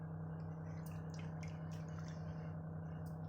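Semolina and tomato batter stirred in a bowl, with soft wet squishing and dripping sounds over a steady low hum, close and fairly quiet, no talking.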